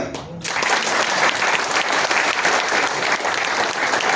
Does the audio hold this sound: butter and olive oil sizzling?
no